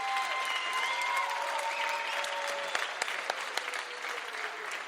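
An audience applauds actors after a performance, sustained steady clapping with a few sharper claps standing out, moderately loud and filling the room.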